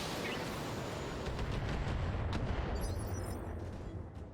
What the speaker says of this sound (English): Firing a full salvo.